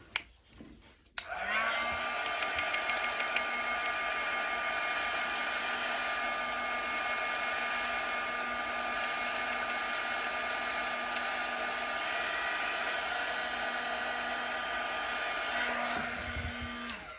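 A hair dryer runs steadily on a fresh coat of paint on an upcycled cutting board, loud and continuous for about fifteen seconds after a brief start-up, with no talking.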